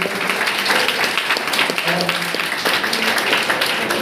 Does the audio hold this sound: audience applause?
yes